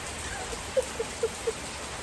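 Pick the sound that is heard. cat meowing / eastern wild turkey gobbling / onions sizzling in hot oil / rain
rain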